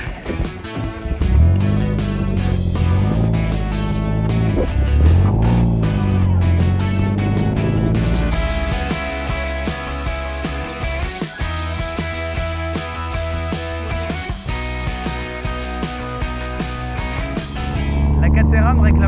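A new Caterham 165 Supersprint sports car is driven, its engine note rising and falling through gear changes, loud and close, with music playing over much of the run.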